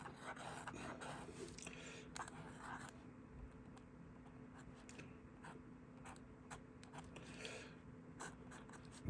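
Swan self-filler SM 205/59 fountain pen with a flexible nib scratching across paper in faint, irregular strokes with small skips, close and quiet, with soft breathing and a few light ticks.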